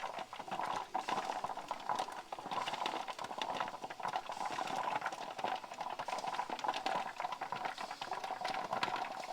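A pressure canner of turkey broth at a slow boil gives a steady, soft bubbling and pattering hiss that runs continuously and faintly at close range.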